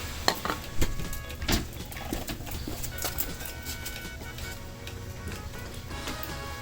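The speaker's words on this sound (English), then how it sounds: "I'm using this brake cleaner here to clean this out because it evaporates quickly." Brake cleaner being sprayed into diesel heater parts: a soft, hissing spray with faint clicks and rattles from handling the parts, fairly quiet and close.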